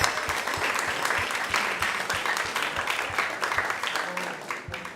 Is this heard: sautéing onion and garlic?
no